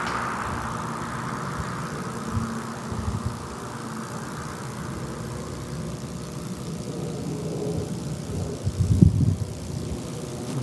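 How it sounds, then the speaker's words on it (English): A propeller aircraft passes overhead near an electrical substation in Boulder, Colorado, a faint distant drone that swells and fades over a low background hum, with a brief thump near the end. "aircraft going overhead just at the moment the traffic clears"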